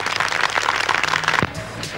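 An audience claps at a Tamil comedy event as a man cuts with scissors, a brisk, dense patter of hands that stops abruptly near the end, leaving a brief low thump and quiet room.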